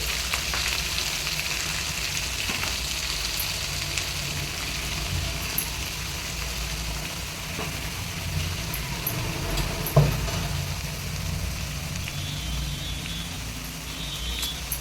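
Spinach (keerai) sautéing in a pan, a constant close sizzle with a low background rumble and an occasional scrape or knock of a utensil.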